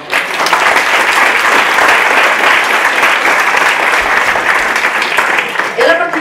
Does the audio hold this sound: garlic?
no